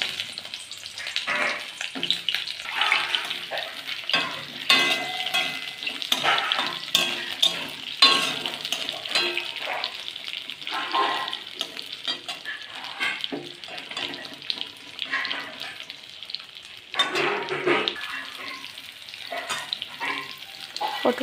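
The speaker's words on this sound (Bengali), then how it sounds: "পটলগুলোকে আমি নাড়িয়ে চাড়িয়ে ভালো করে ভেজে নিচ্ছি।" Chopped pointed gourd fries in hot oil in a kadai, giving a steady sizzle with irregular scraping and clattering as the pieces are stirred and turned, with no talking.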